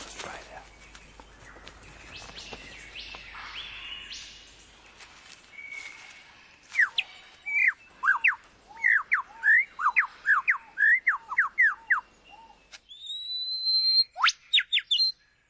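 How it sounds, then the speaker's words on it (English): A superb lyrebird of southern Australia sings in a southern Australian forest, giving a rapid run of loud, ringing whistled phrases and sharp calls, near and clear, preceded by softer rustling and faint background sound. "The superb lyre bird of southern Australia."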